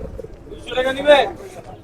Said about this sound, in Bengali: কবুতর লড়াচড়া করতেছে দেখেন মাশাল্লাহ খুব সুন্দর কবুতর